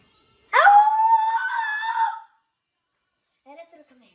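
A child imitates a scary wolf howl during a Halloween candy unboxing, holding one long rising, wavering note for nearly two seconds, then a faint brief vocal sound after a pause.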